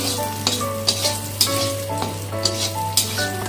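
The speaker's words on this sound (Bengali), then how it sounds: "তেলেই বড়ি ভেজে নেব লবণ দিয়ে বড়িটা ভেজে নেব" Lentil dumplings (bori) frying in oil with salt, a close, steady crackling sizzle broken by periodic stirring clinks over a constant low hum, with no voices.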